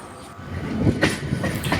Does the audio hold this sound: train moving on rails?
yes